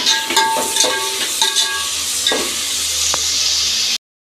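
Tomatoes sizzle in a frying pan while being stirred for a chicken curry, a steady hiss with scraping utensil clinks and knocks in the first seconds, close and fairly loud, cutting off abruptly near the end.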